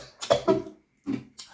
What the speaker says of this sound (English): Which day this cough can start again?